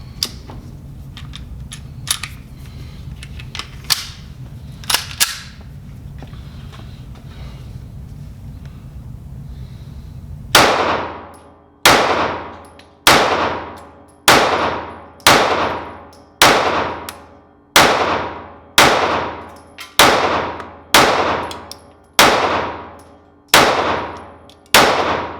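Rost Martin RM1C pistol firing at steel targets: about a dozen loud, sharp shots in a steady deliberate rhythm, each followed by a ringing metallic clang that decays before the next, after a stretch of low background noise.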